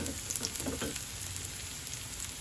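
Garlic frying in a pan for a vegetable dish: a soft, close crackling sizzle with a few small pops at first, then settling into a steady hiss.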